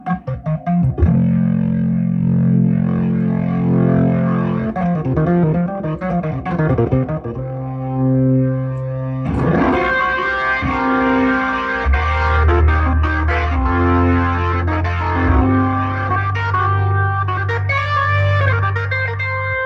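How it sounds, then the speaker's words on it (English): Boss organ played through an effects unit set to a watery, dripping tone, sustained chords and melodic lines with a bubbly, modulated shimmer, loud and continuous without talk. "Let's put it on what I call the water drop sound."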